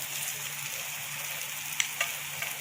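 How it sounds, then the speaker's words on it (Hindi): Apple and date roll ups frying in a pan over medium-high flame, a steady soft sizzle throughout with a few faint crackles and taps near the end, no talking. "इसे हमें मीडियम टू हाई फ्लेम पर हल्का सा गोल्डन ब्राउन होने तक फ्राई करना है"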